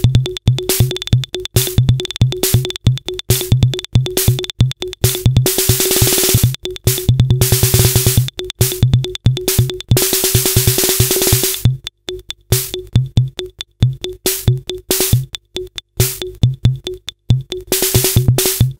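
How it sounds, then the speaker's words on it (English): Drum voices from a homebuilt M253AA preset drum machine running a preset sequence: loud, punchy kicks and bright noisy snare and hi-hat hits in a steady pattern, with short gaps between phrases, no talking. "this has basically got a bunch of preset sequences in it, and it's a preset drum machine"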